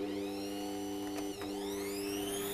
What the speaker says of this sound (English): I'm going to go ahead and start my mixer.